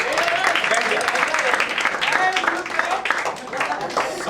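A room full of people breaks into loud applause, clapping mixed with overlapping voices and chatter throughout.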